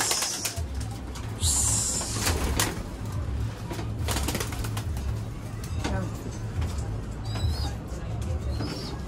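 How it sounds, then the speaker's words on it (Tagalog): Pet pigeons flying and cooing around their keepers, with soft low coos repeating and occasional wing flaps over a steady outdoor background, while people talk nearby. "Mga ibon natin nagliliparan rin sila"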